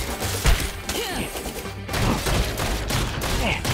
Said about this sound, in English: Shot them all to death.